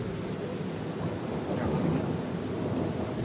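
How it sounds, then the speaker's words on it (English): Thunder in the horror survival game Darkwood, a deep rumbling boom that rolls under a wash of rain-like noise. It is fairly distant and sustained, and it swells slightly midway with no talk over it. "Yeah, I'm pretty sure that boom is thunder."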